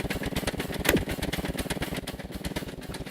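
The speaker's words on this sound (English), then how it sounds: "Horn will sound, engine will start" An engine in the video game Scrap Mechanic starts up and runs with a steady, rapid mechanical chug, a brief rising tone near the start, and no talking.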